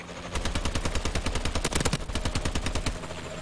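Rapid automatic gunfire fills a Call of Duty: Advanced Warfare match while a Warbird aircraft is overhead, with dense, steady bursts of shots up close and no voices.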